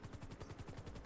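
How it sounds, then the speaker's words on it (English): Rapid automatic gunfire in GTA 5 roleplay, a fast even train of muffled shots heard faintly from a distance, with no talk. "Oh, shoot, more shots."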